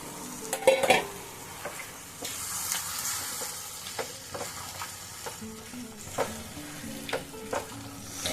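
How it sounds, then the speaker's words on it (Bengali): Boiled peas and potatoes stirred in a frying pan give a soft sizzle under repeated scraping and clinking of a spoon against the pan, close by with no talk. "খুব সুন্দর করে নাড়াচাড়া করে আমি মিশিয়ে নেব"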